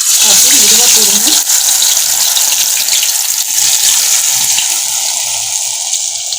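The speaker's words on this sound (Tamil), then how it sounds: "எண்ணெய் நல்லா காஞ்சிருச்சு. இப்போ நம்ம பரட்டி வச்சுருக்க மீனை இப்போது நம்ம உள்ளே போடலாம்." Marinated fish slices go into hot oil, giving a loud, close, hissing sizzle that runs steadily throughout and eases slightly toward the end. A brief voice is heard near the start.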